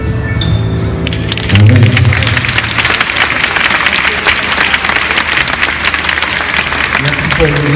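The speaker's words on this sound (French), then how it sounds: "Merci pour vos applaudissements." An audience at a church gathering breaks into applause after a sung hymn, a dense burst of clapping that swells suddenly and stays loud and steady. Music fades out beneath it just as the clapping begins.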